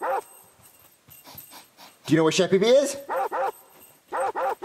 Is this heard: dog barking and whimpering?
yes